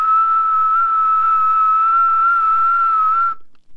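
A single sustained, steady whistled tone held for about three seconds, then cut off; a person whistling a low call in imitation of a robin.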